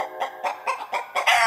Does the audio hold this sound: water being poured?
no